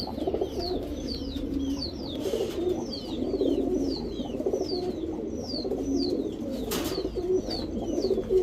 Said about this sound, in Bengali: এখন দেখাবো এক জোড়া ছাড়াছাড়ি করা খয়রা গলা কবুতর